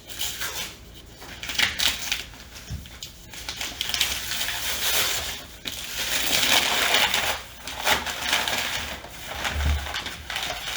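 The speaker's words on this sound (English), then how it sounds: "I guess we just do a little unwrapping then." Plastic shrink wrap being peeled and torn off a board game box, steady crinkling and crackling that swells and dips over several seconds, close and fairly loud with no talking.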